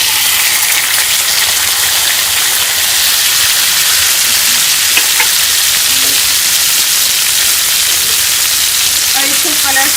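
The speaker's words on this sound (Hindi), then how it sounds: "तवे पे जो है 2 चम्मच ऑयल के डाली हैं। इसमें हम ये बीफ डाल देंगे।" Beef frying in two spoons of oil on a tawa gives a steady, loud, continuous sizzle throughout, close up with no talk.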